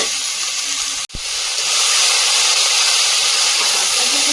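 Chopped spinach and potato drop into a hot wok and set off a loud, steady sizzling hiss, with a brief sharp thump at the moment they land, after which the frying hiss swells and holds.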